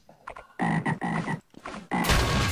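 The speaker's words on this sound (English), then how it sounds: "Hostile chum toads." Chum toads croak in the video game Half-Life: Azure Sheep, a string of loud, close, throaty croaks coming in several quick bursts with short gaps between them.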